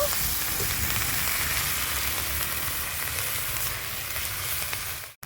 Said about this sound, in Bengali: আদা পেঁয়াজটা আমি ভালো করে ভেজে নেব